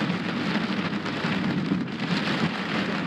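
Heavy rain pours steadily during a fast, violent thunderstorm in Kruger National Park, a dense continuous wash of drops hammering close by with no pauses and no voices.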